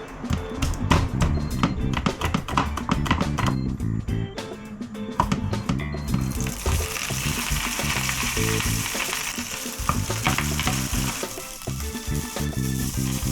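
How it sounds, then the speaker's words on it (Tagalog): Hot dogs fry in a pan with a steady sizzle and scattered taps and clinks of a utensil, the frying growing louder and more continuous after a few seconds. "iluluto muna natin yung hot dog"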